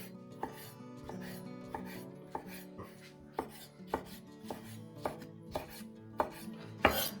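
Roasted peppers are chopped on a cutting board with a knife, about a dozen crisp, evenly spaced strikes, close and fairly quiet, with no talking.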